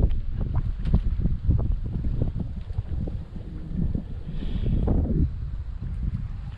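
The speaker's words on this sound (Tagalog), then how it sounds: "Ay, ang hangin, grabe." Strong wind gusts over open water from a small boat on a crossbow fishing outing, a steady broadband roar buffeting the microphone close up with a few soft knocks throughout.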